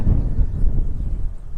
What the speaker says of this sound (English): it's windy and it's just blowing away